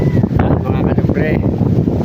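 Strong wind on an outdoor outing buffets the microphone in a dense, continuous rumbling roar that stays loud throughout, with faint voices somewhere underneath.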